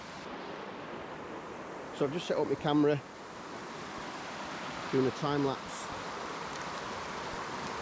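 A waterfall in Loxley Valley near Sheffield rushes as a constant, soft broadband roar in the background, while someone speaks briefly over it twice.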